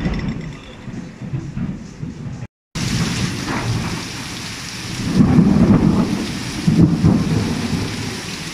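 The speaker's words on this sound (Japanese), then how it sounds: "雨やばすぎ。" Heavy rain pouring down with rolling thunder, a dense steady roar that briefly cuts out, then swells again with low rumbles of thunder underneath.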